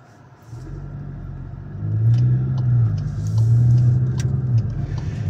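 A Cupra Formentor 2.0 TSI with 245 hp and a DSG gearbox pulls away hard from a standstill. Its engine rumbles close by, then rises through the revs in two surges, with a short dip for the gear change in between.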